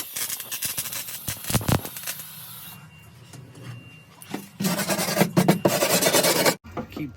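Grinder working the thin, rusted-through driver's side floor metal of a Subaru Justy, harsh rasping bursts that stop and restart, with a louder sustained grinding stretch toward the end before cutting off.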